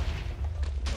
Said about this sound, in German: das ist jetzt halt nur ein TNT